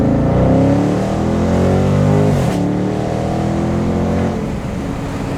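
A 2019 Dodge Charger Scat Pack in track mode revs hard and loud up close, its engine note sweeping upward, dropping briefly, then climbing again under full throttle with no talking.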